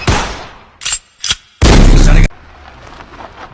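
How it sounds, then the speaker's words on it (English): Sharp pistol shots crack loudly and close, two short pops followed by a longer sustained blast, then a quieter tail of room noise. "make that pistol pop"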